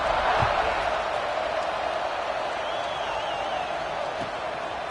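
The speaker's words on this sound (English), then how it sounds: "this crowd is buzzing after that last score" Crowd buzzing in a football stadium after a score in a Miami vs Michigan game, a steady broad roar that holds loud and even throughout.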